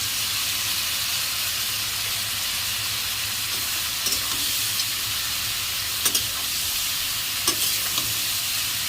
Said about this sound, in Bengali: এবারে মাংসটা যে মাখিয়ে রেখেছিলাম মাংসটা ওটা দিয়ে পেঁয়াজটা দিয়ে দিলাম